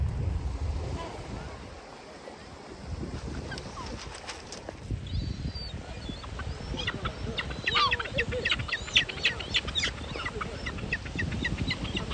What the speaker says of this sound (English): Seagull time to feed up.